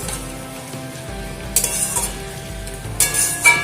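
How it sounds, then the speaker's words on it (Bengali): Elephant foot yam greens (ol shak) sizzle steadily in a frying pan while being stirred, with louder scraping bursts of the spoon against the pan near the middle and end. "2 থেকে 3 মিনিট রান্না করে নিলে কিন্তু ওল শাক রেডি হয়ে যাবে।"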